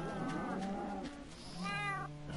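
Cat meowing in the video game Minecraft, two clear, close meows separated by a short gap, set over a steady game background without speech.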